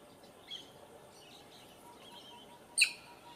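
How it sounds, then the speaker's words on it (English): A piapiac, the long-tailed crow of the Gambia, gives faint, far-off calls: a brief note early on and a sharper single-syllable call near the end, over quiet outdoor background. "The call of these long-tailed crows is supposedly onomatopoeic"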